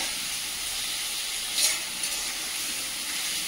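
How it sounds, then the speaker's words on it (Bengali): Meat lightly frying in a pan gives a steady, even hiss that holds throughout, with one brief louder burst near the middle; no voices are heard. "হালকা ভেজে নেব মাংসটা।"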